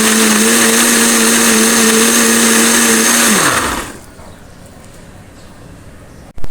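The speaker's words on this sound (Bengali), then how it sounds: "এখন মিক্সারটা করে নেব।" A mixer grinder blends a roasted raw mango drink with a loud, steady motor whine, then winds down and stops, leaving near silence and a brief knock.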